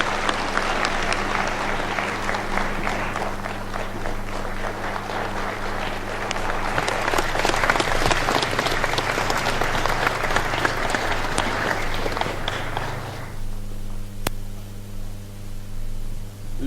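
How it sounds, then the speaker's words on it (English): Applause fills a hall at a Public Service Commission fellowship inauguration, dense and steady for about thirteen seconds over a constant electrical hum, then cutting off abruptly to leave the hum and room noise. "Let us give a more heartier clap to Her Excellency"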